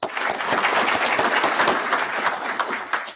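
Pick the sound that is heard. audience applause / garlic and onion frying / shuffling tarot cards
audience applause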